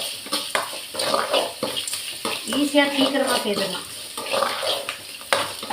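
Tomatoes sizzle and sauté in a pan with occasional stirring scrapes, while a person talks over it nearby.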